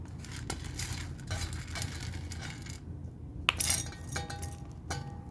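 Dry chillies pounded in a glass for village-style pepper rasam make quiet, irregular knocks and glassy clinks, with a sharper cluster of strikes partway through.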